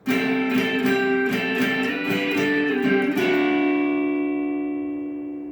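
Electric guitar playing a part of a song, a close strummed chord pattern with ringing open-string resonance, then a final chord left to ring and fade.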